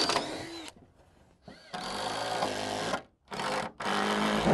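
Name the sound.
power drill driving screws into decking panels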